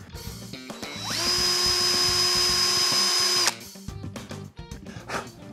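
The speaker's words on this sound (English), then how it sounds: "as you're drilling through, when you get to the tape, that's where you stop" A power drill bores screw holes into a bass guitar body, its motor whining at a steady high pitch for about two seconds before cutting off, close and loud, with clicks and handling noises around it.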